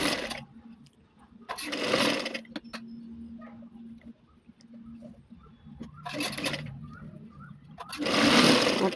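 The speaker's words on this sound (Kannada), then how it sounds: "ನೋಡಿ ಇವಾಗ ಕೆಳಗಡೆ ಅದೇ ಥರ ಆಪೋಸಿಟ್ ಇಟ್ಕೊಂಡು ನಾವು ಸ್ಟಿಚ್ ಮಾಡ್ಕೊಬೇಕಾಗತ್ತೆ" A sewing machine stitching a kurti runs in short bursts: a whirring run, a pause, then more runs, with a low hum and small clicks in the quiet gaps between them.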